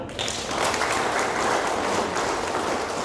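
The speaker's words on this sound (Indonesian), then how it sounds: "saya minta tepuk tangan ke Bank Jateng" An audience claps in a brief, steady burst of applause, a continuous dense patter lasting a few seconds without voices.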